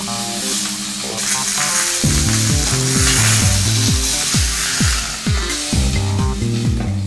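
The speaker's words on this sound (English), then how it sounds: "Turn it over and brown the other side in exactly the same way." Meat browning in a frying pan, a steady loud sizzle under repeated knocking and scraping from a utensil against the pan, close by and without speech.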